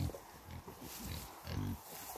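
Piglets on a farm give soft, close grunts and snuffles, a few short bursts scattered over a quiet background.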